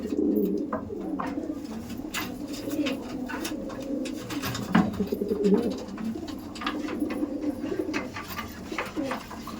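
Pigeons kept for sale at a breeder's loft in Thakurpukur cooing steadily and close by, their low, throaty calls overlapping in repeated rolling phrases with a few faint chirps in the background.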